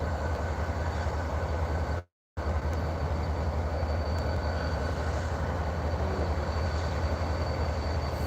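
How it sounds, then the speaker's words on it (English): A train rumbles at a central railway station, a loud, continuous low roar that runs for several seconds with one short dropout near the start. "I swear I thought I heard another train just now"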